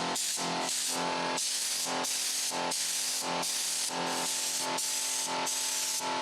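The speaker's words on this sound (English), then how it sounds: "Painting over the old lettering and the repaired spots." A paint sprayer hissing in about a dozen bursts as paint goes onto the exterior of an old Coca-Cola truck, loud close sprays separated by short gaps.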